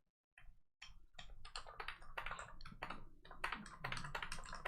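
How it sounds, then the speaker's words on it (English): Typing on a computer keyboard during a JoyHitBox build stream: after a brief silence, rapid close-up key clatter starts and keeps up a dense, irregular rhythm of clicks and taps until the end. "I was just typing stuff"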